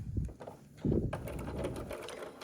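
A home sewing machine stitches flower petals onto a quilt block, a steady mechanical whirring run with a brief louder burst near the start and ticking needle rhythm, close and alone.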